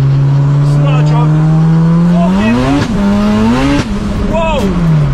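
A Honda Civic EK3 hatchback accelerates hard from close by, its loud engine note rising steadily through the gears with brief dips at each shift, strong and continuous over about five seconds.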